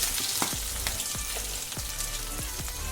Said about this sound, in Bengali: মাছটাকে আমি ভালো করে ভেজে নেব।